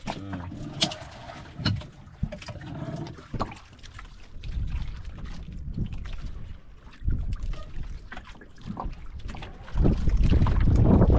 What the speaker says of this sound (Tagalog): Malakas na naman ah. Hangin.